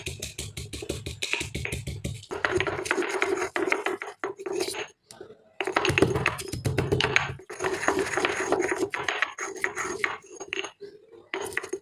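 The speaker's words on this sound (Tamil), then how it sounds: "ஸோ இதை வந்து நம்ம அந்த உரலில் வச்சு இடிச்சுக்கலாம்." Garlic with its skin on is pounded in a stone mortar, producing repeated dull thuds and crunching knocks in uneven bursts with brief pauses, close and fairly loud, while a person talks over parts of it.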